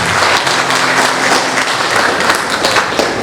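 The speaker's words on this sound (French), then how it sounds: "Applaudis bon Dieu dans la vie de Dieu." A church congregation gives a dense, loud burst of applause throughout a thanksgiving service, steady clapping filling the space from start to finish with a faint voice underneath.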